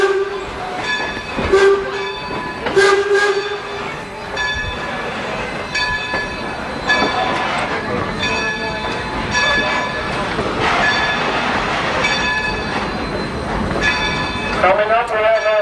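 A Reading Company railroad engine pulls a baggage car and an old passenger car on a New Hope and Ivyland Railroad excursion, rumbling past with horn blasts and clattering wheels, fairly close and steady.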